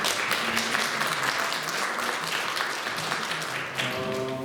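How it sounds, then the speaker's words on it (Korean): A crowd applauds steadily and fairly loudly throughout, many hands clapping together indoors. "우리 박수로 한번 환영하겠습니다."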